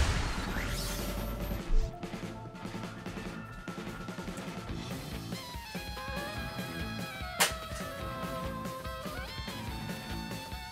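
Gravity Rush Remastered combat with a steady bed of music and effects, broken by a few sharp crashing rocket blasts, one early and a louder one near the end.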